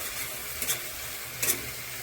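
Spice paste, ground with garam masala, frying in oil for a home-style country chicken curry, a faint steady sizzle with two brief scraping strokes of stirring, soft and close.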